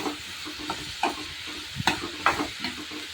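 Chopped onion frying in hot oil in a pan on full gas, giving a soft steady sizzle broken by a few scraping stirs, with no talk over it.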